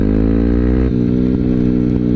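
A modified Yamaha WR 155 supermoto with an aftermarket exhaust runs loud and close, holding a high steady rev that drops sharply, then settles into a throbbing idle with short throttle blips.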